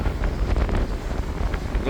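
Gusty harbor wind buffets the microphone with a low, rumbling roar, loud and close, aboard a harbor pilot boat in Pensacola, with a faint wash of water or engine noise underneath.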